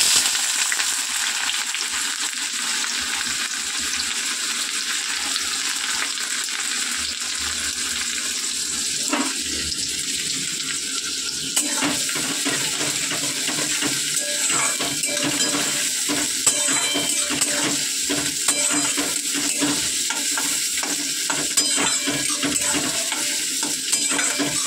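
Chopped onion fries in hot oil with white cumin seeds, a continuous loud sizzle with a sudden surge as the onion goes in, then steady hiss and crackle broken by intermittent stirring, no talking.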